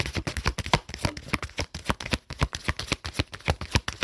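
Cards are shuffled repeatedly, a run of quick riffling bursts in a steady rhythm, close and crisp with no talking.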